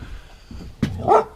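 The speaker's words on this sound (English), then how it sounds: "I'll sort these dogs out first of all." Several dogs bark close by in a workshop. A few low muffled woofs are followed by a sharp loud bark and an excited yelping burst.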